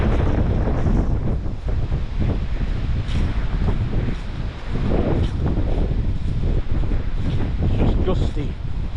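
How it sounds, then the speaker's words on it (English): Gusty coastal wind buffets the microphone with loud, continuous rumbling roar, waves faintly underneath, steady throughout with fluctuating gusts. "These winds wouldn't blow an old lady on a Zimmer frame."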